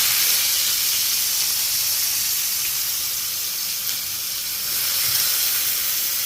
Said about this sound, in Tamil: கடுகு நல்லா பொரியணும் பொரியவும் வெங்காயம் போடணும்